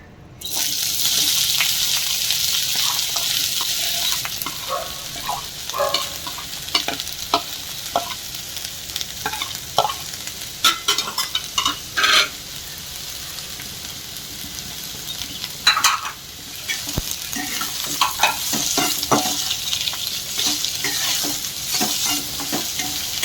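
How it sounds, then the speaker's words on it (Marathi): Onion sautéing in hot oil sizzles loudly and steadily in a pan, with scattered scrapes and clicks of stirring over the constant frying hiss, close and without talk. "आता आपण त्याच तेलामध्ये कांदा परतून घेऊ."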